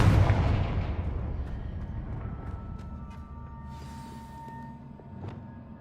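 A Confringo fire-spell blast in the game Hogwarts Legacy, a loud booming burst at the start that rolls off into a long rumbling decay, with a few small crackles and a lighter thump near the end.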